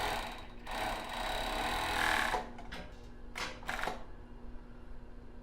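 A sewing machine runs over a lace seam, stitching one pass over another, with a quiet mechanical whir followed by several short bursts of stitching.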